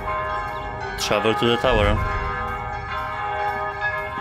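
A cluster of bright bell strikes rings out amid a droning game soundscape in a flooded New Orleans, a few quick peals fading into a sustained hum while a voice speaks briefly.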